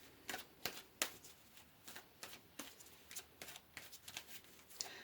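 Tarot cards are shuffled and drawn by hand: quiet, close riffling and snapping clicks in irregular bursts, with soft card slaps between them.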